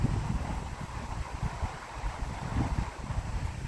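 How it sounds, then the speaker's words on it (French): Wind gusts buffet an outdoor microphone near the Bozouls canyon in France, making a continuous low rumbling roar that rises and falls unevenly. "moi j'ai un peu de vent, je sais pas si on va l'entendre au micro"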